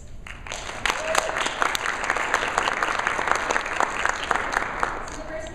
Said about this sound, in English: I just really wanted you guys to give applause to both Phil and Julie